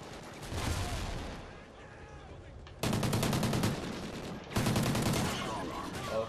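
Rapid shotgun and automatic gunfire in a first-person shooter game. Dense, loud bursts of shots come in two sustained volleys over a rumbling background, with faint voices underneath.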